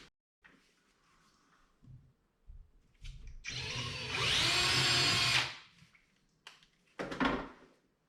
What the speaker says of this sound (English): I'm going to use a number 7 drill.